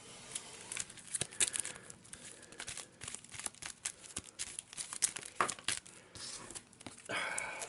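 Cards for a board game are shuffled by hand, giving a close, papery rustling and flicking with irregular bursts that thicken into a denser riffle at the end.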